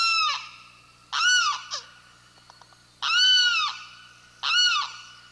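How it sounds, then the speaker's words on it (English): A male limpkin calls in a cypress swamp before dawn, four loud, close, wailing screams in a slow rhythm with short silent gaps between them and faint background hum. "A male limpkin has awakened. This relatively tall bird, whose dark brown feathers are streaked with white, stretches and calls again."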